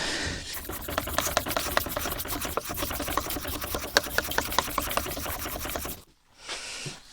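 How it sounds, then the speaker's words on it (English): Steady scratchy rubbing of sandpaper on a wooden bar stool seat, back-and-forth strokes along the grain close up, continuing for several seconds before stopping abruptly. "A little bit of sanding,"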